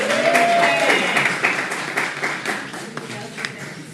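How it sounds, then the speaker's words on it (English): An audience at an evening business credit talk breaks into a round of applause, dense clapping that starts strong and gradually thins out, with a voice briefly audible over it. "let's give them a round of applause"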